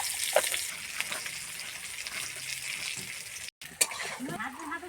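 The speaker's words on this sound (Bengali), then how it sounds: "তেল গরম হয়ে গিয়েছে, আর আমি আলু ঢেলে দিচ্ছি" Potatoes frying in hot oil in a kadai, an even hiss of sizzling throughout with a couple of sharp clinks and a short cut of silence partway through.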